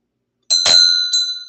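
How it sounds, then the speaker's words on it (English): A small hand bell rung to signal the start of class gives one loud, close, bright ding after silence, followed by a quick second tap and a long ringing decay. "ringing the bell to signify the beginning of class"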